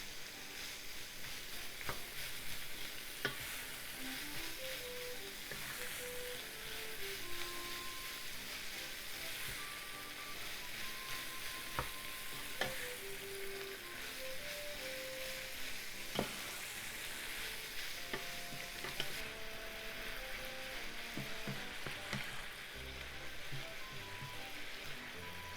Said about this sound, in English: Pork is all brown and well cooked, so let's add the vegetables. Just keep cooking until the vegetables are wilted.